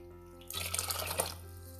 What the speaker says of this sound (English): I'm adding 4 cups of water